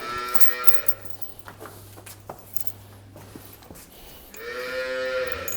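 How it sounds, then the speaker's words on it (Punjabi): A young female Nili-Ravi water buffalo gives two loud, close, drawn-out moos, one at the start and one at the end, with shuffling hooves and faint rustling in between. "ਬਹੁਤ ਖੂਬਸੂਰਤ ਝੋਟੀ ਆ"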